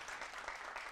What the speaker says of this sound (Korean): 그래가지고 그 내용 박수 한번 쳐주실래요?